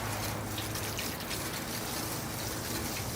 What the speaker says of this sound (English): here I go with the rainwater. Rinsing it off, starting at the top here.